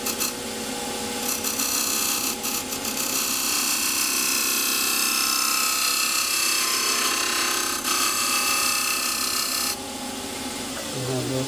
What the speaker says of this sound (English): I'm going to turn the tool on the side here and just pull it along there, and just nice fine little shavings come off the side of it, like a scraper